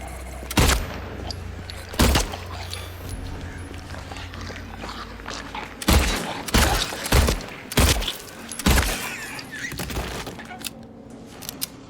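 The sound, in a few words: gunshots in video game Silent Hill 2 Remake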